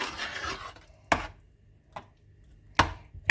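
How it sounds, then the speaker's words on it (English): Pressure-cooked, steamed tripe is broken up and mixed in a pot, heard as three sharp, separate utensil knocks against the pot with quiet pauses between them, after a brief stretch of soft scraping. "So we're just going to break it up a bit. Mix it all together."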